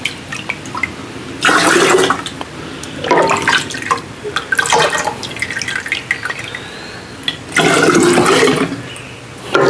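Peach cream moonshine poured into jars, loud bursts of splashing liquid in several separate pours with quieter dripping between them.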